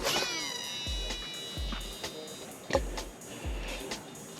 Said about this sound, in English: We got a clean overhead cast with the external dial set to 1.